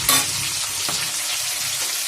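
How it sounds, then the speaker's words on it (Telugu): Vegetables frying in ghee for a cucumber chutney, a dense steady sizzle close by with a brief stir or clink at the start and a faint scrape partway through, no talking. "కొంచెం నెయ్యి వేసుకొని పచ్చి వేసుకుంటే అది బాగా వేగుతాయి కదా"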